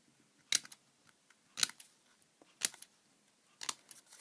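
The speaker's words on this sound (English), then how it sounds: "If I cut another one, because that's only 3, cut" Scissors snipping paper offcuts for paper flowers, four sharp crisp snips spaced about a second apart, close and quiet with near silence between cuts.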